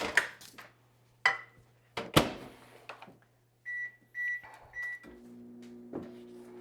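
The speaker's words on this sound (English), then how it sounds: "I can just do this in the microwave," A microwave oven melting margarine in a home kitchen, heard as a steady low hum under clattering cupboard, dish and utensil knocks, a few short electronic beeps midway, then a louder tonal drone toward the end.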